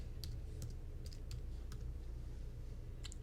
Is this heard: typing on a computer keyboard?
yes